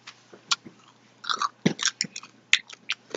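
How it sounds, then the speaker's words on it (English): Close-up crunchy food bitten and chewed: a few sharp crisp crunches, then a dense run of crackling chews after a short pause, with no talk. "But yeah, these are super crunchy."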